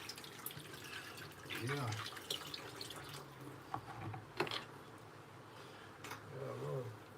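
Running tap water rinsing chopped vegetables while cooking Jamaican steamed snapper fish head, a steady splashing and trickling stream with a few sharper drips, and a voice speaking briefly over it.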